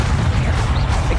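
A Protego shield spell cast in Hogwarts Legacy, a loud, dense magical whoosh with a heavy low rumble and shimmering texture, sustained briefly before a faint swirling tail.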